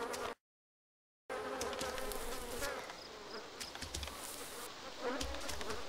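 Flies buzz around a corpse in the survival game Arma 2 DayZ, a persistent close insect drone with shifting pitch that continues after a brief dropout near the start.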